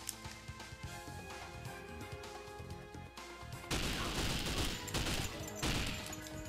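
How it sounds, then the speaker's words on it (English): Gunfire aimed at the player in James Bond 007: Nightfire, with dense bursts of shots over a musical backdrop that grow louder and sharper in the second half of the stretch. "Where am I being shot from?"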